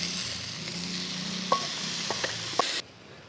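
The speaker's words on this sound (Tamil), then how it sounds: "அரைச்சி வச்சுருக்க சின்ன வெங்காயத்தை போட்டு வதக்கிப்போம்." Ground shallots and tomato sauté in a pan for a crab gravy, a steady close sizzle with a few sharp clicks of a spoon against the pan, cutting off abruptly near the end, with no talking.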